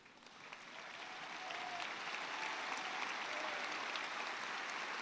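Graduating classmates applauding at a high school commencement, a dense, sustained wash of many hands clapping that swells over the first second and a half and then holds steady and full.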